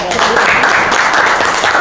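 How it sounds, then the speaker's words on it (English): A room of attendees at a city public safety board meeting applauds for a police officer, a dense, even wash of clapping, with some speech also registering. "Let's give a round of applause for Officer"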